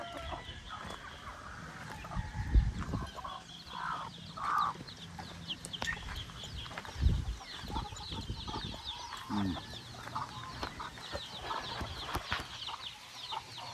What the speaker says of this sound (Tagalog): Yan guys, ang mga manok dito.